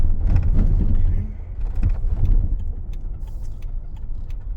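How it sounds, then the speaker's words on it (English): A 2015 Jeep Wrangler Unlimited with a manual transmission and lift runs at half throttle, its steady low engine drone loud throughout and dipping slightly as it settles, with faint rattles on top. "we're going to go ahead and go half throttle, trying to get to 5th gear."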